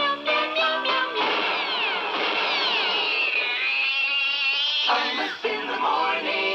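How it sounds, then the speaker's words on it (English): A cat meows in a long, drawn-out wailing cry that rises and bends, with a few shorter meows before and after, heard loud and close with no talk. "Meow, meow, meow, meow, meow, meow"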